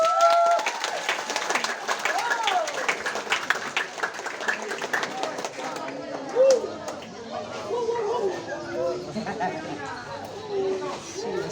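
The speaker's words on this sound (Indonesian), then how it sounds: "Beri aplaus." Audience applauding and clapping after a Hero's Day school drama performance by twelfth-grade students at a madrasah, with crowd chatter mixed in and fading into murmuring talk and children's voices.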